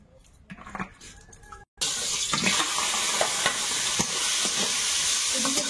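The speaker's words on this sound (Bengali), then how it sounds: "এদিকে চিংড়িটা একটু ভেজে নেবো" Prawns frying in hot oil in a wok, a loud steady sizzle that bursts in after a brief quiet start and continues with clinks of stirring throughout.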